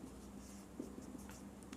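Faint scratching of chalk or marker writing on a board during a math lesson, soft intermittent strokes over a steady room hum.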